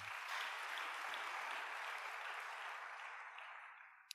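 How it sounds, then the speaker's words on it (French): A church congregation applauding during a sermon, a dense, sustained wash of clapping from many hands that holds steady and then slowly fades out. "Acclamez pour vous-même."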